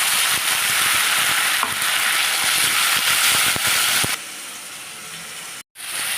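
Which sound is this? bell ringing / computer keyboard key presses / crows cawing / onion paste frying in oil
onion paste frying in oil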